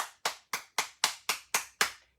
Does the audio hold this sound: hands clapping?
yes